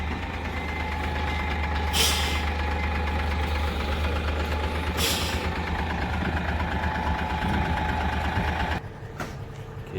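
A vehicle engine idles while reversing, giving a low, steady rumble with a faint knock. Two brief hissing bursts sound over it, and near the end the engine note drops and changes.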